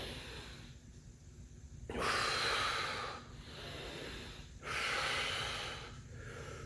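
Deep breaths held through a Superman back exercise, two long loud exhales rushing out about three seconds apart, close and steady with no talking.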